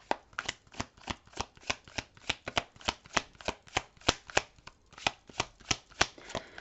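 Tarot cards are shuffled by hand in a quiet room, a long run of crisp, evenly spaced riffling snaps, about three or four per second, close and soft, with no voices.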